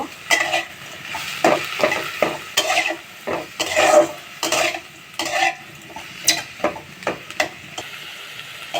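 Drumstick flowers fry in a pan with salt and turmeric, a steady sizzle broken by repeated scraping stirring strokes, near and fairly loud with no talking.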